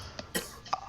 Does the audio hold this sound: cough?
yes